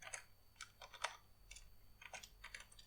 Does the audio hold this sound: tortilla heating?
no